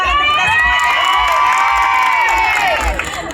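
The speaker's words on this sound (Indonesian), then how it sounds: "Beri tepuk tangan untuk kita semua." A crowd at the opening of an exhibition for Banda Aceh's 2016 city anniversary cheers and shouts loudly and steadily, with children's high voices prominent throughout and a brief fade near the end.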